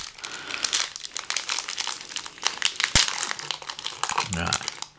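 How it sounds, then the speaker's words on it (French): Crinkling foil pack of 2015 Topps High Tek trading cards torn open up close, a steady run of loud crackles and rustles with a sharp snap near the middle, under a voice speaking. "Hop, on ouvre un paquet de 8 cartes"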